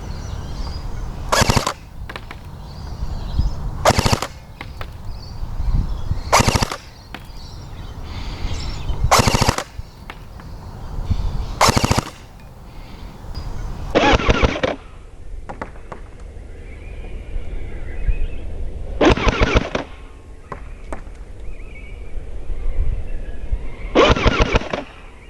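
An MP 40 gel blaster fires in repeated short bursts at a target 30 meters away, each burst a rapid loud rattle separated by pauses of a few seconds, with quiet background noise between.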